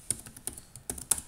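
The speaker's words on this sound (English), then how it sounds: "Oh, I can even use the keyboard." Typing on a computer keyboard during a Linux Mint setup: a handful of sharp, separate key clicks in an irregular rhythm, close and fairly quiet, with no talking.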